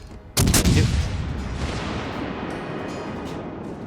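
Ship guns firing in the naval battle game World of Warships: one loud booming salvo with a sharp attack, followed by a long rumbling decay that fills the rest of the moment.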